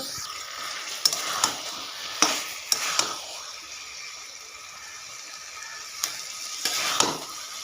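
Taro greens with prawns frying in a pan, a soft steady sizzle punctuated by a handful of sharp spatula knocks and scrapes as the mixture is stirred, with a quieter stretch midway.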